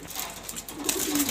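Pigeons, a hen and a cock kept together, coo softly in a short low burst amid other faint bird sounds and background rustle.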